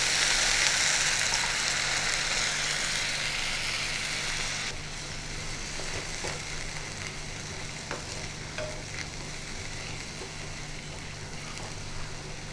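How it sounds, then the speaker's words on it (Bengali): A pan of grated coconut, ginger paste and fennel powder sautéing for Bengali dudh shukto, with milk poured in; a soft steady sizzle and stirring, louder at first, then settling into a quieter bubbling hiss with faint scrapes. "নারকেল কোড়া, আদা বাটা আর মৌরি গুঁড়োতে একটু জল দিয়ে ভালো করে কষিয়ে নিচ্ছি। এবার আমি দুধটা দিয়ে দিচ্ছি।"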